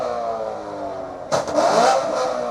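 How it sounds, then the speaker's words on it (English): A car revs its engine at a busy car meet, a mid-pitched engine drone that swells into a sharp, loud burst of revving partway through, then settles back to a steady run. "We're still revving."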